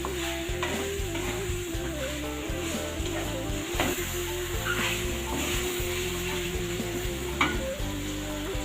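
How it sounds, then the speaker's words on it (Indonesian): Beef tendon frying in spice paste is stirred in a pan, with a steady sizzle under repeated scraping strokes of the utensil, fairly close and continuous. "Kita aduk lagi. Aduk sampai merata, sampai bercampur bumbunya biar meresap."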